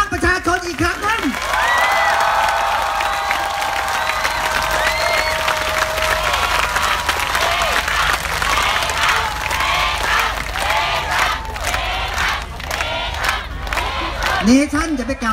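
Protest rally crowd applauding and cheering, a large outdoor mass of voices shouting and whistling over steady clapping, with amplified speech heard at the start and end.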